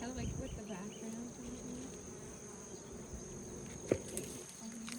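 Honey bees, workers and drones, buzzing around an open hive in Hawaii; a faint, continuous drone of many insects with a brief knock partway through and quiet voices in the background.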